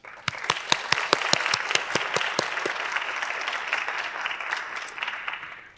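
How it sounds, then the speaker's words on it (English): Audience applause at a school district student art showcase and staff recognition ceremony: a crowd claps steadily for about six seconds, with sharp individual claps standing out early before the clapping thins slightly toward the end. "Please join me in a round of applause for Family First."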